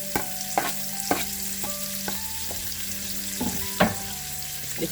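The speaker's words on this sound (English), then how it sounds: "Using the same oil, I'll add another teaspoon. Add in my onion, green onion." Chopped onion and green onion frying in reused fish oil for a Guyanese butterfish stew, a steady sizzle broken by several sharp scraping stirs of a spoon in the pot, close and alone without talk.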